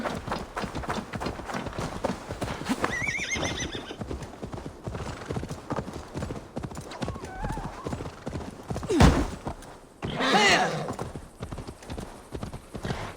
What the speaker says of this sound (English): I'm going to call my horse over.